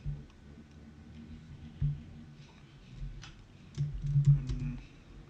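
Light keystrokes tap on a computer keyboard in uneven bursts, faint and close, over a low background hum.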